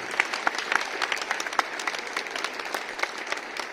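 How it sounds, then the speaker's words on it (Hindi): An audience at a National Sports Day speech claps steadily and moderately loud, dense applause holding throughout without a break. "तालियां होनी चाहिए"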